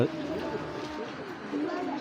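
Black checker pigeons, a breeding pair kept as domestic birds, give soft, low cooing close by, with a person talking steadily over and around the calls.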